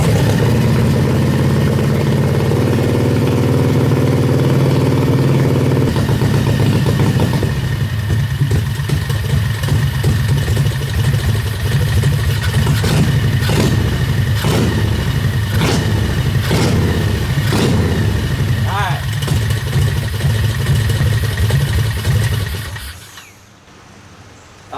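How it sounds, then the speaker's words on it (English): A 670cc off-road go-kart engine starts on choke and idles loudly close by, a steady low rumble with a slightly uneven beat that runs for about twenty seconds before cutting out. "let's see if this thing will start. It's on choke, engine's on"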